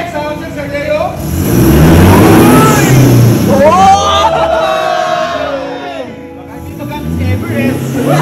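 A car engine revs loudly through its exhaust, the roar rising and falling in long surges, while several people shout and cheer close by over it.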